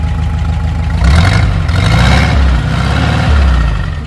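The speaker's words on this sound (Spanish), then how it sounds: "el motor del bocho se escucha parejo" A fuel-injected Volkswagen Beetle (Vocho) engine idling close up after an ignition timing adjustment, a loud, even low rumble with a slight rise and fall in revs.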